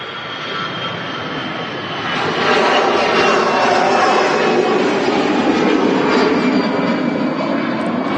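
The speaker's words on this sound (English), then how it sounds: "Another EasyJet taking off there, the A320 with them classic fenced winglets at the tips of the wings there." An EasyJet Airbus A320 jet takes off at Manchester Airport, a broad continuous engine roar that swells and holds steady, loud and sustained with no talking.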